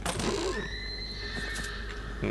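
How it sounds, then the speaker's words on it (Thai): A horse in the video game Tiny Tina's Wonderlands gives a loud, close neigh that wavers and trails off, set over a dense bed of game ambience. "เสียงม้า"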